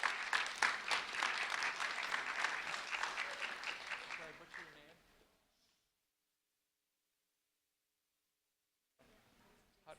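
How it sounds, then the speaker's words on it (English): An audience at a school event applauds four students called up, a dense burst of clapping for about five seconds that trails off into near silence before a faint murmur returns. "A round of applause for our 4 students"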